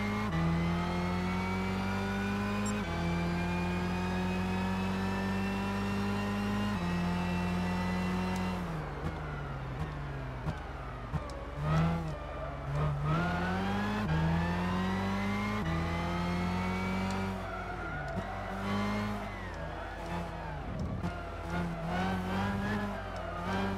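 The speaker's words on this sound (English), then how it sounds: "Look at that drift." A race car howls through a drift in Gran Turismo 6 during a Super GT500 championship race, its engine note held steady, then rising and falling sharply through the corners, loud and constant with no voices.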